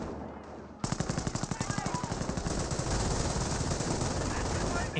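MG42 machine gun in Company of Heroes opening up after a brief quiet, a long steady burst of rapid, evenly spaced shots, loud and close, over a dense battlefield din.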